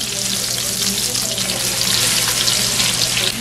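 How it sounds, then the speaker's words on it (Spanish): Onion sizzles in melted butter in a pot, a loud, dense, steady frying hiss close by, with faint stirring and a low background hum. "Cuando nuestra mantequilla esté deshecha, iniciamos por poner la cebolla"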